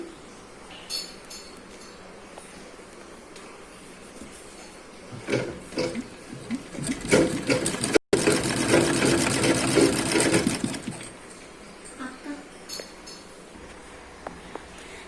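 A sewing machine stitches a cross-cut blouse, starting with faint clicks and short bursts before running in a loud, close, steady whir, cutting off abruptly, then carrying on and slowing to scattered taps.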